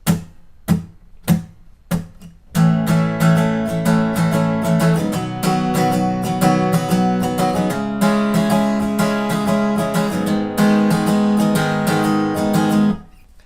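Guitar chords strummed through a song's chorus: a few separate strums open the passage, then a steady, loud rhythmic strumming pattern runs on its own for about ten seconds before stopping.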